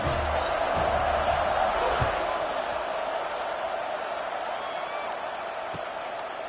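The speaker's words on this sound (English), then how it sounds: "this crowd is buzzing after that last score" A football stadium crowd buzzing after a touchdown, a steady broad roar of many voices with occasional whoops and thuds, with an announcer talking over it.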